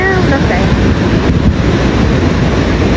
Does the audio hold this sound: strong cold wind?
yes